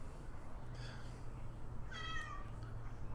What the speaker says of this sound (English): Baby cat, come here! Come here, stop screaming at the door!